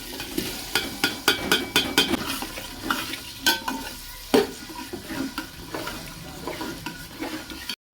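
Moong dal goes into a pan of frying spice paste made with ginger, green chillies and tomato, sizzling steadily while a spoon scrapes and stirs in repeated strokes, close and with no talk.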